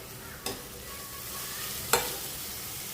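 Coriander is sautéed in the tempering for an onion-greens prawn masala, with a soft steady sizzle and two sharp scraping strokes of the spoon against the pan.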